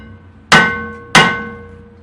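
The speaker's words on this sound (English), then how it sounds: "You need to take a good hammer, because you're going to have to beat this off of here." A hammer strikes the rear brake rotor of a 2014 Nissan Altima twice, giving two loud, close metallic clangs about half a second apart, and each one rings and fades away.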